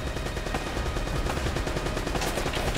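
Machine gun fire in the video game Uncharted: Drake's Fortune comes as rapid, dense bursts of shots, loud and continuous across a few seconds with no talk.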